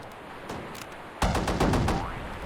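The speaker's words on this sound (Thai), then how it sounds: "ถ้ามีรีโวเวอร์เนี่ย คือแบบพอยิงมันจากไกลๆได้อยู่นะ" Revolver gunshots go off in the Roblox game Pilgrammed, a few fainter sharp cracks followed by a louder burst of rapid shots, with no voices.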